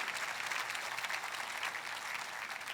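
Dense, steady applause from a large church congregation, loud and continuous throughout without a break.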